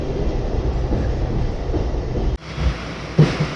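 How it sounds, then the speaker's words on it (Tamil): A Chennai local train travels over a double-layer bridge, its steady loud rumble and rattle filling the whole stretch with a brief dip and a clunk near the end. "இப்போது இந்த ட்ரெயின் இங்கே ட்ராவல் ஆகுதுங்க"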